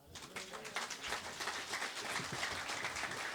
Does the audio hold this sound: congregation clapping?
yes